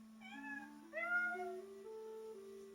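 A cat gives two drawn-out meows, rising and falling in pitch, close and clear over quiet background with a steady faint hum.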